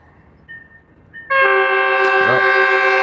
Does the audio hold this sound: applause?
no